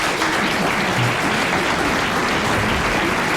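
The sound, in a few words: studio audience applause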